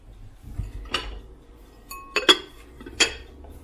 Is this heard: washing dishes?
yes